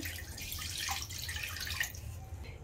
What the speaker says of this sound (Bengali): তারপরে দেবো জল। দিয়ে দিলাম জল